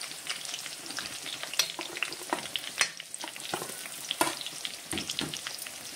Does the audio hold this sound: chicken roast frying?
yes